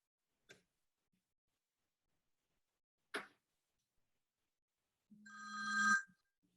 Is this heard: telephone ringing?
yes